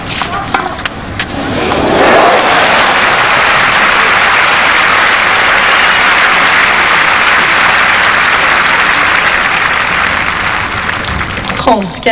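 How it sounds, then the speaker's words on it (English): A tennis crowd at the French Open at Roland Garros applauds a backhand drop shot, loud sustained clapping that swells after a couple of seconds and holds for about ten seconds before fading. "Crowd appreciating this beautiful backhand drop shot."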